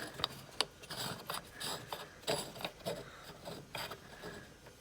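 Small metal clicks, scrapes and ratcheting taps as an acorn nut is threaded by hand onto the clutch servo of a VW Autostick during diaphragm replacement, close and irregular with no talking.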